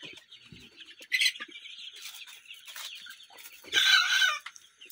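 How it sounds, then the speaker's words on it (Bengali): Young 28-day-old Egyptian Fayoumi cockerels crow in short, raspy, breaking bursts close by, with a louder crow near the end and soft clucking in between. "প্রতিটা মোরগের বাচ্চাই আপনার এভাবে করে ডাকে"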